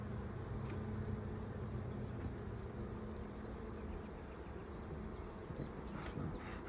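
Honey bees buzz steadily at an open hive in a bee garden during a frame inspection, a dense continuous drone of many insects close by with no talk over it.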